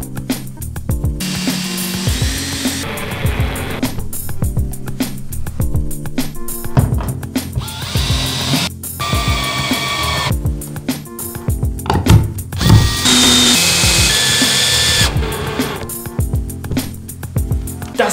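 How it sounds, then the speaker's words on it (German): A power drill drives screws into wooden floorboards in a renovation job, with several loud, close whirring bursts broken by short pauses and steady background sound running underneath. "So, und jetzt reinschrauben."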